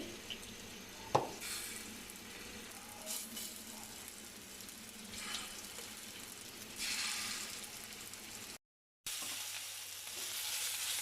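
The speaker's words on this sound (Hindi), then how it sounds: "ऑयल जैसे ही गर्म होगा इसमें हम कोफ्ते ऐड कर देंगे" Chicken kofta balls frying in shallow hot oil, a soft steady sizzle with a sharp knock early on and brief louder bursts of crackle as the pieces are turned.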